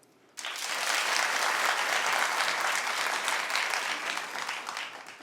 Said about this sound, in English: clap if you have a tattoo